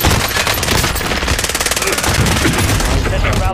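Loud, dense automatic gunfire from the video game Call of Duty Warzone, rapid continuous bursts filling the moment with hardly a break.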